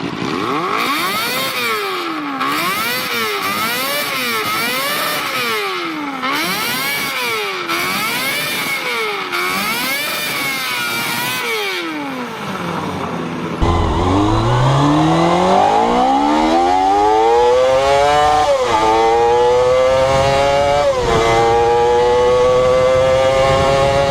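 A Kawasaki Ninja ZXR 250, a 1990s four-cylinder sport bike, revs loudly and repeatedly to a screaming high pitch. A second run of rising, gear-by-gear acceleration follows, close and sustained.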